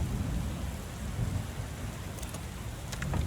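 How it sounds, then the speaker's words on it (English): Rain in the video game Lovecraft Country: Book of Hours, a steady, dense hiss of rainfall with low rumbling underneath and a few sharp drip-like ticks, no talking. "let's get out of the rain"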